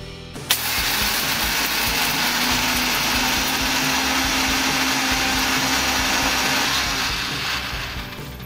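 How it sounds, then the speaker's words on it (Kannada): A kitchen mixer grinder pulverizes a cup of roasted gram into fine powder, a loud steady motor whir with gritty churning that starts abruptly after a click and runs continuously for several seconds without talk. "ಈಗ ಒಂದು ಮಿಕ್ಸಿ ಜಾರಿಗೆ 1 ಕಪ್ ಪುಟಾಣಿ ಹಾಕಿ ಸಣ್ಣಗಾಗೋವರೆಗೆ ರುಬ್ಬಿಕೊಳ್ಳಿ."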